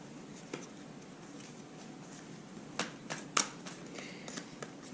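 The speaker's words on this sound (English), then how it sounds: "I'm having trouble shuffling." Tarot cards being shuffled by hand, heard as soft, scattered riffling clicks and taps, faint and close, with a few brief louder snaps in the second half and no talking.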